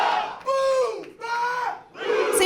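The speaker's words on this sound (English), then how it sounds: "Seems like the crowd likes him though" A wrestling show crowd cheers and roars for a wrestler in loud, swelling waves of shouting, rising and dipping about three times.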